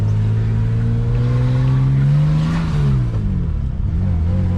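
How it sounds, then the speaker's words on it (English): A BMW E30 with a bad exhaust leak drives along, its engine note loud and close as it revs up, eases off and climbs again. "Exhaust leak's pretty bad."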